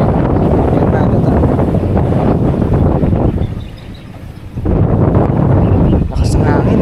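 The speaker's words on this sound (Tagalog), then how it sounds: "Lakas ng hangin." Strong wind blasts across the microphone during a fishing outing, a loud, rough roar that dips briefly midway before surging back, with voices partly buried beneath it.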